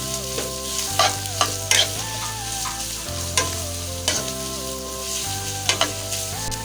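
Vegetables sizzling and being stirred in a hot pan while cooking chicken chilli, a steady loud fry with repeated scraping stir strokes, close and without talk, over background music.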